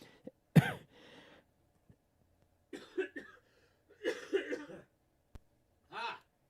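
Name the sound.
cough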